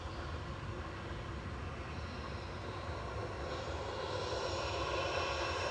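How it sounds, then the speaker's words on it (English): An Ethiopian Airlines Airbus A350-900 arrives at Manchester Airport on flight 728 from Addis Ababa via Geneva. A continuous broad jet roar holds steady from a distance and grows slightly louder toward the end, with no voices. "here's Ethiopian. Coming in from Addis Ababa via Geneva with flight 728. This is ET ATR A350-900"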